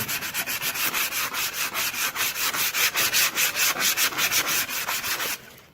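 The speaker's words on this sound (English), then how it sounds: "So you sand them top and the bottom." Wooden pieces for a DIY door galley are hand-sanded with 180 grit sandpaper in quick, even back-and-forth strokes, a close, loud rhythmic rasp that stops abruptly near the end, with no talking.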